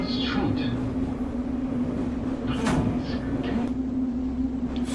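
A train in a trucking simulator video game gives a steady droning rumble with a sustained low hum and faint clanks, constant and fairly loud throughout.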